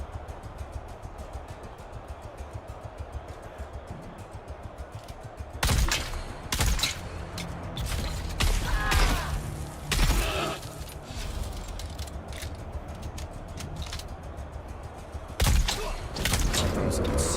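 Gunfire in the video game Dune: Awakening comes as several loud, sharp bursts of shots spread through a steady background hum, with a player talking throughout.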